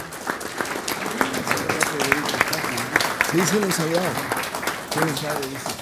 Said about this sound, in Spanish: Los saludamos con nuestro aplauso cordial.